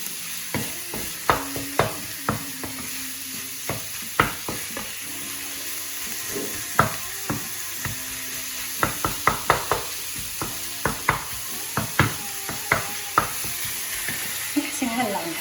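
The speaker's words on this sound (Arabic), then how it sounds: "نخلط البصل مع اللحمة." Onions and minced meat sizzle in a pan, with frequent loud scraping clicks of a utensil stirring in an irregular rhythm over steady frying hiss, close by and without talk.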